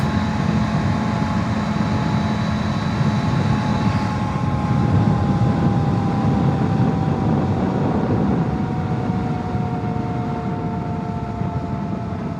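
An adventure touring motorcycle idles on the road with a steady, droning engine hum and slowly shifting tones, holding at a constant loud level without a clear cutoff.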